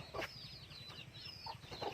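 Backyard domestic chickens cluck softly at feeding time, several quick overlapping clucks and chirps from a small flock, near and moderately quiet.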